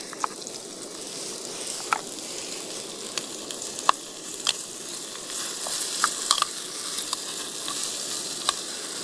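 Pieces of paneer frying in curry oil give a steady close sizzle with scattered crackles and pops, with no talk.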